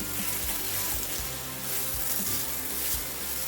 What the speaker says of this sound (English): Now we're going to add a little bit of white wine. Let that cook down a little bit.